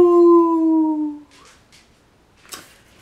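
A voice imitates a long howl at the moon, a loud sustained wavering tone that fades after about a second, followed by soft breathy sounds and a faint laugh.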